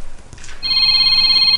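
A cellphone rings with a steady electronic tone that starts after a brief soft rustle and holds loud and close for about a second before cutting off.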